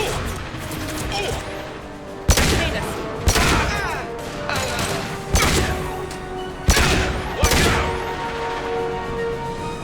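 A gunfire volley in the video game Mass Effect 2, a dense rattling fusillade with five or six sharper loud cracks spaced about a second apart over continuous battle noise.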